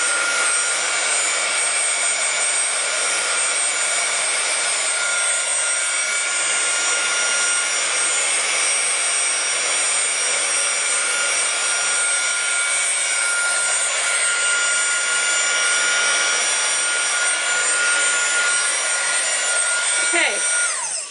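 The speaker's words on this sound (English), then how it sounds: "keep running the dryer over it" A hair dryer blows over paint on a craft piece with a steady, loud whooshing hum that runs unbroken throughout, close by.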